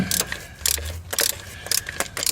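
A hand ratchet turns the upper starter fastener on a 2006 Honda Odyssey, heard as close, quick bursts of clicking pawl strokes with short pauses between swings.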